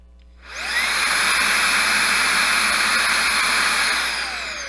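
Makita AS180D 18-volt cordless handheld blower spins up and runs with a loud, steady high-pitched whoosh and motor whine, close to the microphone, then begins to wind down at the end.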